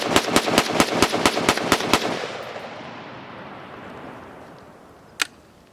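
An M-14 rifle with a forged receiver fires about ten rapid semi-automatic shots in a quick, even rhythm. The loud cracks ring into a fading echo, then one sharp shot follows after a pause.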